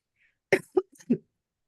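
A few short, harsh coughs in quick succession, close and fairly loud, followed by silence.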